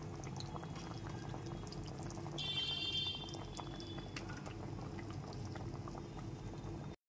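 Curry gravy bubbling at a steady boil in a pan, with egg omelettes being added, a constant low burble and soft liquid splashes, a faint high tone appearing briefly before the sound cuts off; no talking.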